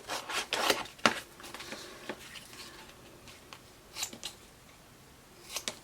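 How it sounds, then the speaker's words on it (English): Scissors snip and rasp through a scrap of material, cutting it into thin pieces in a series of quick, irregular cuts and rustles, close and quiet with no talking. "I usually just cut a rough chunk"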